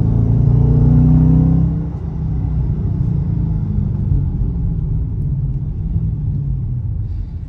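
A 2023 Dodge Charger R/T's Hemi engine rumbles loudly with a throaty rev at first, then settles into a steady low drone as the car cruises.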